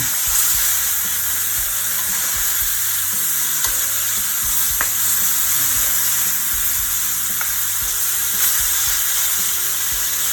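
Pieces of chicken in a hot pan for Southern smothered fried chicken give a steady, loud, hissing sizzle with crackles and occasional pops, and some quiet clatter underneath.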